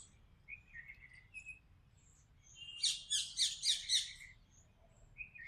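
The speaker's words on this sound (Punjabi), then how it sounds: "ਕਿੱਥੇ ਗਏ ਸਾਡੇ ਇਹ ਤੋਤੇ" A burst of shrill, rapid parrot calls, about five quick squawking notes in a row, with faint chirps before and after over low background hum.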